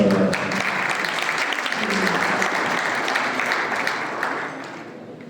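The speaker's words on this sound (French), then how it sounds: "Je vous prie de les applaudir" Audience applause at a Moroccan biomedical association panel on the profession's legal side, steady dense clapping throughout with a faint voice early on, fading slightly near the end.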